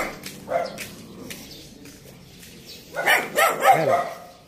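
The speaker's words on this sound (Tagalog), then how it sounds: "Wala, nahabol tayo ng aso. Ang laki, guys." A large police dog barks during a chase, a few loud close barks bunched near the end over a steady noisy background of footsteps and outdoor rumble.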